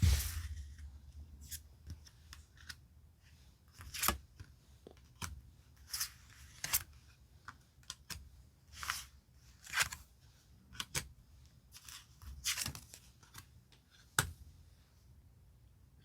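Tarot cards handled and picked out during a reading, a quiet string of soft papery clicks and snaps scattered irregularly, with no talking.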